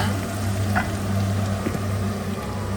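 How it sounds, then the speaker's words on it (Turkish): Onions caramelizing in a pan for homemade hamburgers, a steady close sizzle and crackle with a low hum underneath, no voices. "Burada şöyle karamelize soğan yapıyoruz."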